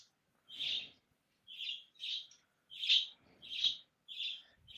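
A bird chirps in a steady series of short, bright calls, about six of them spaced evenly against a quiet background.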